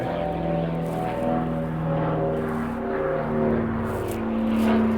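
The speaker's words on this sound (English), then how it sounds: "all these planes coming over." An airplane passes overhead as a loud, sustained engine drone with a steady low hum and slowly shifting tones that swell toward the end, heard without speech.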